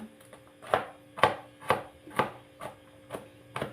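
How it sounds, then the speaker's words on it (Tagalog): A knife chops garlic on a board in a home kitchen, with about eight evenly spaced, crisp close knocks over a faint steady hum. "Maghihiwa tayo guys ng, ano, ng bawang."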